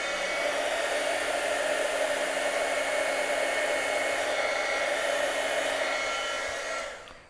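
A heat tool blows steadily to set embossing powder on a stamped flower image, a continuous loud whooshing hum that runs unbroken for about seven seconds before cutting off.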